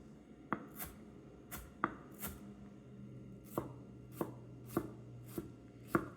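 Knife thinly slicing onions longwise on a cutting board, about a dozen crisp, evenly spaced chops close up in a quiet room.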